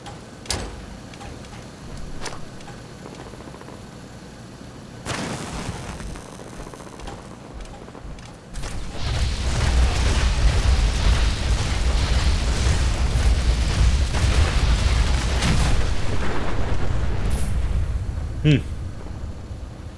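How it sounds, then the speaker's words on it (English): A pulse grenade detonating on a sentry bot in Fallout 4, a sudden swell into a loud sustained electric rumble and crackle lasting several seconds, with soft ticking beforehand and a sharp pop near the end; someone talks at points. "A sentry bot. He's just minding his own business. Why don't we give him a pulse grenade?"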